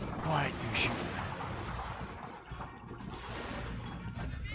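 Gunfire from a unit in a Total War strategy battle, a dense rumble of distant shots and booms rolling under a noisy battlefield din, with a few sharper cracks early on.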